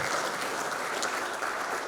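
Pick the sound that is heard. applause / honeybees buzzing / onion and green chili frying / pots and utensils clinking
applause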